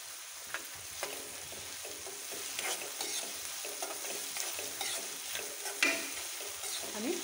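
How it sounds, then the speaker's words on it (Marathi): Sliced onion with a little salt sizzles softly in a hot pan while a spoon stirs and scrapes it in irregular strokes, with no talking. "आणि कांदा परतून टाकूया"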